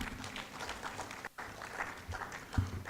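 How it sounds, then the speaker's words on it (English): Steady applause from a conference audience, fairly faint and continuous, with a brief dip partway through before the clapping carries on. "Another round of applause for him."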